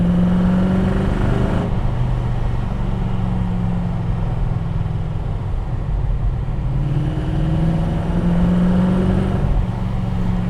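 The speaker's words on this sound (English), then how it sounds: "It's like driving around with a V8 strapped to your back. You've got all that power and noise behind you." A CAV GT40 replica's V8 engine accelerates on a wet road, a loud, close, continuous roar and rumble whose pitch climbs, dips and climbs again over several seconds, with no talking.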